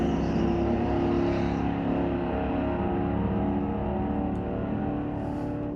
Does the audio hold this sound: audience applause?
no